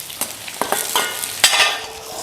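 Pad thai noodles stir-frying in a hot pan, with a steady sizzle broken by several sharp scrapes and clacks of a utensil pushing them around, close and fairly loud.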